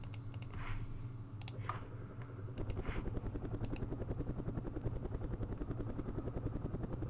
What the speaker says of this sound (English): These helicopters are good to start flying.